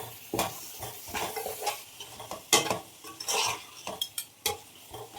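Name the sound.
stirring mutton with masala, yogurt and salt in pan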